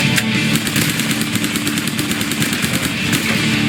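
Rapid automatic gunfire rattles nonstop in the zombie game Survive Until Dawn, loud and close, with evenly spaced shots over a low rumbling game backdrop.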